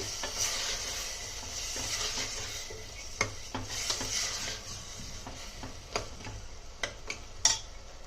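Raw cashews being stirred in a hot pan for a tomato curry produce a soft, continuous sizzle broken by repeated scraping sweeps and a few sharp clinks of a utensil against the pan.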